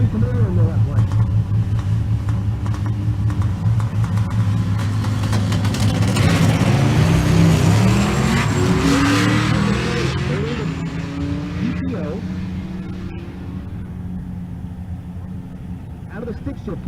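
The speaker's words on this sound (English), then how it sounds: "Dave Black is up. His third gen Camaro in the left lane." A third-generation Chevrolet Camaro launches in a drag race at a racing event, its engine rumbling loud, then rising in pitch and fading downtrack, while an announcer talks over it.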